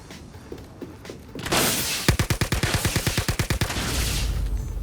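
Rapid volley of loud gunfire bursts in a video game shooter, a dozen or so sharp evenly spaced blasts fired in quick succession after a rising whoosh, close and dominant, ending in a sustained noisy rumble.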